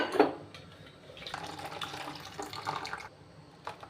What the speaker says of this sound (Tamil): முக்கால் டம்ளர் தண்ணி கலக்கி இதில் ஆட் பண்ணிக்கோங்க